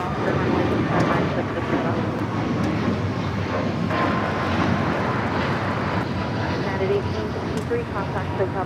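Airliner taking off at LAX, a loud, steady broadband jet roar heard from nearby, holding strong for the whole stretch under faint background chatter.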